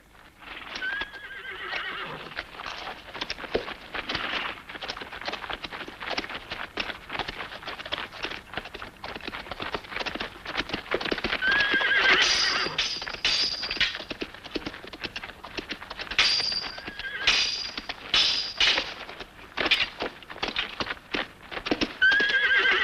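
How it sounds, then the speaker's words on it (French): Horses gallop with rapid, continuous hoofbeats while several loud neighs and whinnies ring out repeatedly over the drumming, close and busy. "Je détache les chevaux pour qu'on ne puisse pas nous poursuivre."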